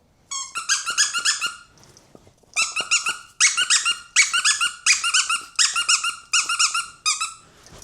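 A squeaky novelty bulb toy is squeezed again and again in quick bursts of bright, high-pitched squeaks, loud and close, with short pauses between the runs of squeaks.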